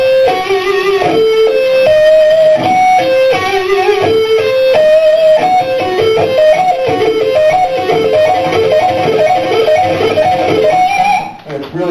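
Electric guitar runs through fast diminished arpeggio shapes, note patterns shifting up the neck in steady repeating groups, loud and clear, with no talking, ending in a brief stop.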